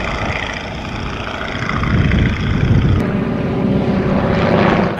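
A Waco biplane's propeller engine roars steadily as it takes off from Little Granston, the loud drone building and holding close throughout without any talking.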